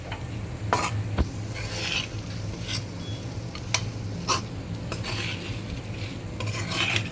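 Roasted semolina being mixed into khoya in a pan for gujiya, with repeated scraping strokes of a spoon against metal over a soft low background, close and moderately loud.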